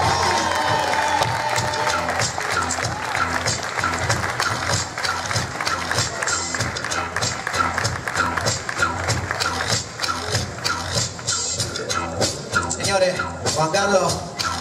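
Audience at a live urban freestyle festival applauds and cheers, a dense continuous crowd roar with clapping that fills the whole stretch, loud and fairly close, with shouts rising and falling.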